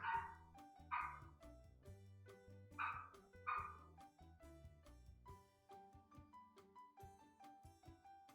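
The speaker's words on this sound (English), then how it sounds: "What he needs to do is stop barking for sure." A dog in a Sims game barks in several sharp yips and woofs, clustered in the first few seconds, amid soft clicking game sounds and light background music.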